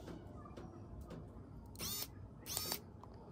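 A small electric screwdriver for PC building and laptop work runs in two short whirring bursts as it backs out a locked screw, close up, with quiet pauses between.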